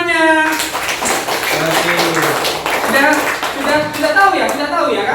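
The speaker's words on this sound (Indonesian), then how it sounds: "Tepuk tangan semuanya." A first-grade class of children clapping their hands in a classroom, the taps scattered and fairly close, mixed in with loud children's voices and an adult talking throughout.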